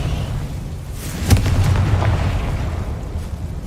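Fire spell blast in Hogwarts Legacy on PS5, a single booming burst near the middle over a steady low game rumble, loud and close with no talk.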